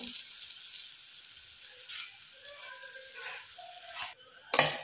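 Rava uttapam frying in oil on a pan gives a steady, close sizzle throughout, with a brief sharper clatter near the end.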